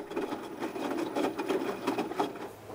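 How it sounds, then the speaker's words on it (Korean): A washing machine runs with a continuous churning, patting wash rhythm. It is fairly close and steady, with no talk over it. "저기 세탁기 소리 한번 들어봐봐"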